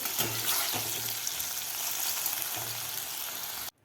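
Cluster beans (gawar) frying in hot oil give a steady, close sizzle with a few soft stirring knocks, cutting off abruptly at the end.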